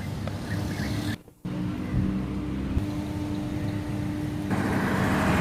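A workers' bus rolls past near a factory, its engine a steady rumbling drone close by with a brief dip in sound partway through and the noise rising again toward the end.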